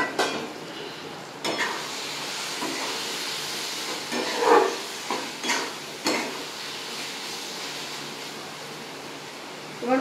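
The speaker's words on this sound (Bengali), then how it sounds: "এবার আমি যে চিড়ে রেখেছিলাম কাঁচা লঙ্কাগুলো ওগুলোকে আমি দিয়ে দেব।" Slit green chillies go into a frying pan of chhena masala, with a steady sizzle broken by a few sharper bursts of crackle and a stir or two, close and moderately loud, with no voice.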